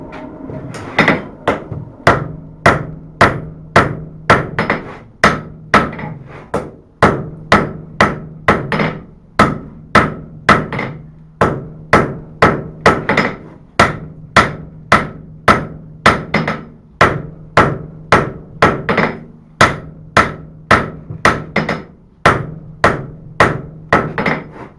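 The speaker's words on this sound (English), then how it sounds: "So I started forging my tip in." Close, loud hammer blows forging the tip of a steel knife blade, with sharp ringing strikes falling in a steady, rapid rhythm and only brief pauses between runs.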